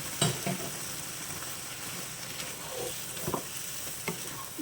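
Boiled moong dal is stirred in a frying pan over a lowered gas flame for a Bengali dal with pumpkin greens, making a steady close sizzle with scraping stirring strokes and no talking.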